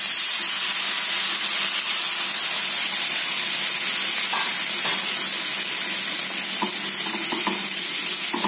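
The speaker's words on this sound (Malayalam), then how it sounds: "ഇതിലേക്ക് നമുക്ക് എടുത്തു വെച്ച പയർ ഇട്ടു." Long beans tipped into a hot pan of oil for a Kerala payar mezhukkupuratti stir-fry, giving a steady, close frying hiss and sizzle throughout with light stirring clicks and no talking.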